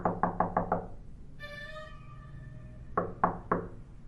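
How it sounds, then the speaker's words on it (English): Loud, impatient knocking on a house's main door comes in two quick bursts of sharp raps, five and then three, with a brief ringing tone between them. "There was a louder knock at the main door of house."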